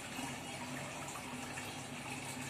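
Water pours steadily into a fish bowl, a continuous gushing splash at moderate distance that holds level from start to finish, with no one speaking.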